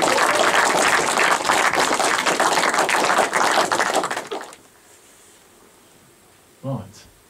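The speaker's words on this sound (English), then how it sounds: "So, can we please give a huge ba-ba-ba cheer, whoop and welcome to Peter Gray." An audience at a talk in Eastbourne claps, cheers and whoops loudly and steadily to welcome a speaker, then the applause cuts off abruptly, leaving quiet room tone and one brief knock.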